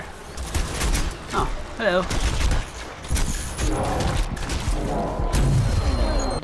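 Rapid bursts of gunfire crackle loudly in the game Crysis 2, with booms and mechanical clatter, while a voice speaks briefly over it.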